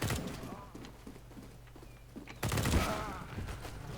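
Gunfire in the video game CS:GO rattles in scattered shots, with a louder burst of fire after the midpoint. A person talks over it throughout.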